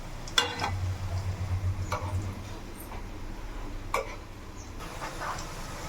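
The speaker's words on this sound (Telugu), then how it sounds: "ఇలా అయితే కొంచెం మంచిగా బ్రౌన్ కలర్ వచ్చే వరకు కాలవాలన్నమాట. ఇట్లా తిప్పుతూ ఉండాలి." Sweetcorn pakodi fry in hot oil with a steady soft sizzle while a utensil stirs and scrapes the pan in a few sharp knocks and short bursts. The sound is close and there is no talking.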